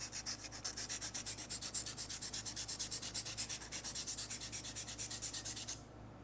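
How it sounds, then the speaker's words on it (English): Steady rhythmic rasping strokes of a whole stick of vine charcoal laid flat on a sanding block, about six per second, close and bright, stopping abruptly at the end. "I sand by laying the whole vine charcoal flat on the sanding block."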